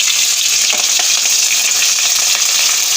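Chopped onions and green chillies fry in hot tempering oil for a bottle gourd curry, giving a loud, steady, dense sizzle close up with light stirring throughout.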